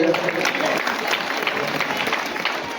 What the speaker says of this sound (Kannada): ತಮ್ಮ ಜೋರಾದ ಚಪ್ಪಾಳೆಯೊಂದಿಗೆ